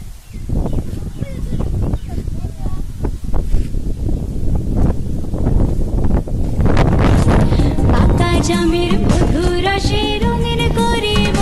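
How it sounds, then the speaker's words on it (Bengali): Strong wind buffets the microphone outdoors in a village in Manikganj, Bangladesh, a loud gusty rumble with rustling, and voices and other sounds come through over it toward the end. "অনেক বাতাস আজকে খুব সুন্দর"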